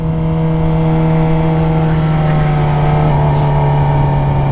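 Suzuki GSX-R 600 sport motorcycle engine running loud and close, a steady humming drone with a slight rise in revs partway through, heard alone without talk.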